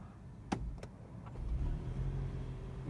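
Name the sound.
car engine cutting in to heat the cabin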